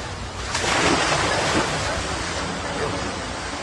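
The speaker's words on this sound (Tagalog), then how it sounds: "Malakas ang hampas ng alon at sa kasagsagan ng buhos ng ulan" Ocean waves crash onto the shore of Isla Puting Bato in Tondo during heavy rain, a loud, dense roar that swells early and then holds steady, with wind buffeting the microphone.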